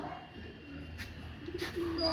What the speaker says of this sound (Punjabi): ਕਬੂਤਰ ਹੈ ਕਬੂਤਰੀ ਆ ਤੁਹਾਡੀ